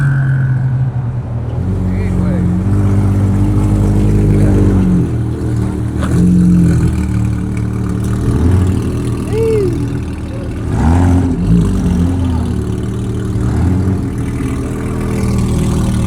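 A Porsche 911 GT3 RS rumbles loudly and close with a deep engine sound, swelling with blips of revving. Voices talk over it throughout.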